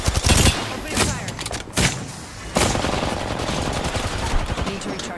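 Rapid gunfire bursts from a sci-fi battle video game, loud and close, with sharp shots at the start and a sustained rattle of automatic fire continuing throughout.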